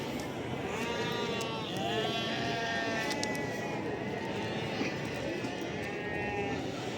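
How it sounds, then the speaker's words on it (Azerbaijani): Sheep and rams bleat again and again at a busy livestock market in Barda, the calls overlapping against a steady wash of crowd murmur and background voices. "Bunlar qoyundur qardaş,"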